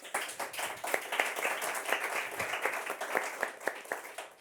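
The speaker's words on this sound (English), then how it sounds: "Please give them a round of applause." A small audience at a health panel claps for the speakers, the applause fairly faint and distant, with distinct individual claps in an uneven patter.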